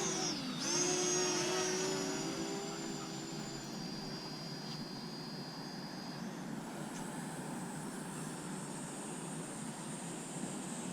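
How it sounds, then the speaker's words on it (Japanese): A Parrot ANAFI drone lifts off near Isanuma Lake to fly a flight plan, its rotors whining up in pitch at takeoff, then holding a steady buzzing drone that fades as it flies away, with faint outdoor ambience. "アナフィをね、フライトプランで飛ばしてみたいと思います"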